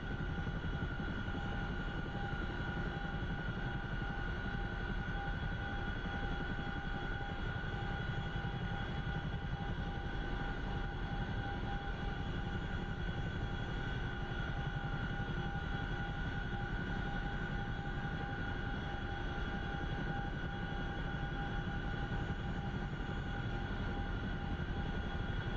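Video game aircraft flying steadily after takeoff, a constant engine drone with a steady tonal whine that holds unchanged throughout.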